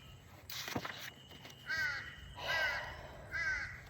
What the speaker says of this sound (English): So now the crows take care of business for me.